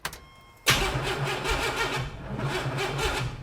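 A turbocharged S10 truck engine cranks abruptly after a brief quiet moment, churning steadily for about three seconds as it struggles to start, loud and close with a rough, repetitive starter rhythm.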